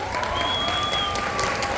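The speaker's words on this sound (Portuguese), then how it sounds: "Vamos receber com muito carinho, com uma salva de palmas, a grande escritora Conceição Evaristo" Audience applause at a literary festival in Saquarema, steady dense clapping from a crowd welcoming a writer, continuous and fairly loud throughout.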